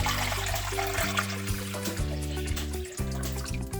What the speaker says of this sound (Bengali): এর ভিতরে দিয়ে দিব পানি।